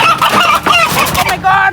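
Local chickens squawk and cluck loudly at close range in agitated, overlapping bursts as they are being caught.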